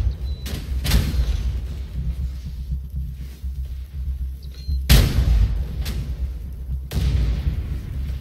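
Napalm explodes in the survival game Night of the Dead, landing as a few deep, heavy booms spaced a couple of seconds apart over a low rumbling background.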